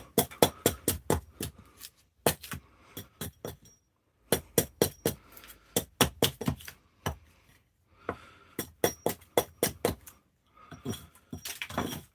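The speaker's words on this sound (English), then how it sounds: "Get the rest of this bark off." Willow bark is struck and knocked off a branch while a wooden spoon is carved, in rapid bursts of sharp close knocks separated by short pauses.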